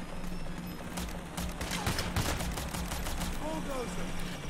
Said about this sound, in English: I'm gonna pew pew with a pistol.